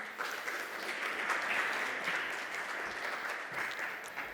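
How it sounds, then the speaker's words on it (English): Warm, sustained audience applause at a crypto conference stage as panelists and venture capitalists walk up, dense and steady clapping holding at an even level for the full stretch. "Let's give a round of applause"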